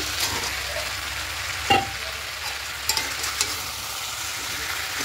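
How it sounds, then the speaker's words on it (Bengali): Fried potatoes get stirred into a spicy chicken curry in a hot pan, giving a steady close sizzle with a few sharp scraping clicks of the spoon. "এবার এখানে ভেজে রাখা আলুটা দিয়ে দেব।"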